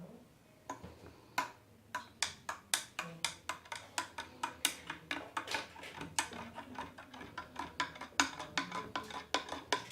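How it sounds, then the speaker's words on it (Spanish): Soap being mixed into a solution in a lab container during DNA extraction, giving a rapid series of light clinking, ticking strikes that repeat steadily at close range and stay fairly quiet. "Vamos a mezclar muy bien para que se integre adecuadamente el jabón"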